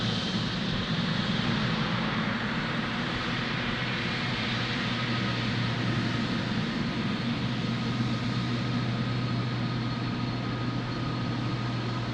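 LATAM Boeing 777 airliner at Lisbon Airport, its engines producing a constant, loud broadband roar with a low steady hum, unchanging across the whole stretch and no voices.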